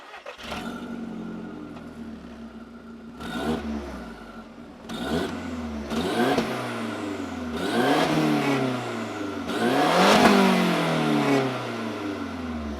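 A 2002 Audi S3 with its 1.8 engine, downpipe and APR Stage 2 tune revs hard in a series of about six sharp blips, each rising and falling back, growing louder toward the end.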